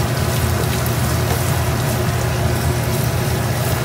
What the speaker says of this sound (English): We're gonna saute the onion